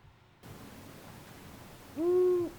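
An owl gives a single clear, drawn-out hoot late in the stretch, fairly close and loud against a quiet night background with faint hiss.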